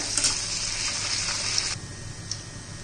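Soybean chunks deep-fry in oil over a medium gas flame, giving a loud, continuous bubbling hiss with sharp crackles, close up and with nobody talking.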